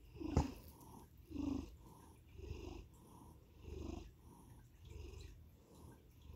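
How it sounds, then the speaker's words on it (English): A pet cat purrs right up close beside a person's head, a low, steady rumble that rises and falls in slow, regular waves with each breath, soft and continuous with a brief tap near the start. "I love his purr."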